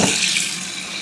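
Tap water runs steadily into a sink while unbroken eggs are washed, a close, continuous hissing splash with no voices.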